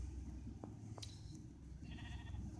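A sheep bleats in Minecraft Pocket Edition, with a few short, faint game bleats and clicks over a steady low background rumble and no talking.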